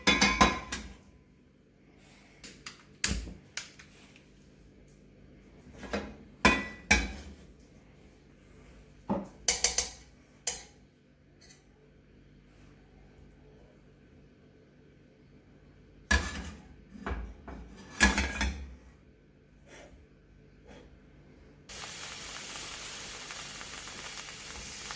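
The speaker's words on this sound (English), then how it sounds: "I'm actually going to start by browning our mince" Mince browns in a pan: scattered clinks and clatters of utensils and cookware come first, then a steady soft sizzle rises near the end, all fairly quiet with no talking.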